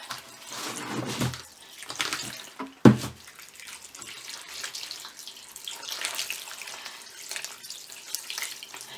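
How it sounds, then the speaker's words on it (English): Water pours and splashes steadily into a basin onto toilet paper being made into clay, with a brief sharp knock partway through, continuing without any talk. "I'm going to pour the water directly on top"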